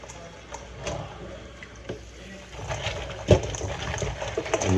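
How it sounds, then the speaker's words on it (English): Water poured into a pot of cut golden crab pieces, a soft splashing trickle with scattered clunks and knocks of the pieces shifting, close by in a home kitchen, with a brief louder clatter midway. "Then I'll just add some water."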